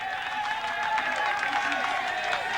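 A roaring crowd lines the Alpe d'Huez climb at the 2003 Tour de France, a dense, continuous wash of cheering and clapping close by, with a commentator's voice running over it.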